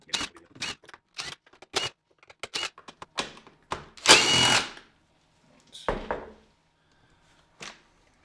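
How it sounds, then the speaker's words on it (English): Stainless steel machine thread screws being unscrewed from the cover of an Ambrogio 4.0 Elite robot lawn mower, giving a run of small close clicks and ticks, then one louder burst of clatter and a few scattered knocks. "we've got another 10 stainless steel machine thread screws. So I'll just remove those now"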